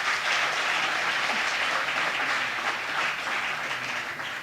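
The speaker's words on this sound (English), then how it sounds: "Just one more round of applause for the awardees," Sustained, dense applause from a gala audience honoring award winners, a steady wash of many hands clapping close and loud throughout, with no talking over it.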